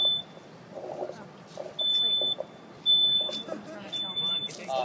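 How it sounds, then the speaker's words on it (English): A smoke detector sounds during an Indiana vs. Illinois fire safety demonstration, sending out loud, piercing electronic beeps in long repeated bursts while people talk and move nearby. "The smoke detector goes off, you want to get out of it."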